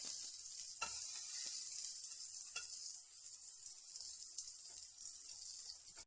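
French fry potato chips that have been frying for ten minutes give off a steady, quiet high sizzle, with a few faint clicks and pops scattered through and no voices.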